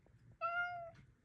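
A cat gives a single short, bright, tonal chirp that sounds almost bird-like, clear and close, rising out of quiet background noise.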